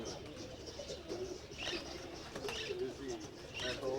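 Pigeons coo in repeated soft, throaty phrases at a moderate distance over a low background hum, with faint chirps mixed in.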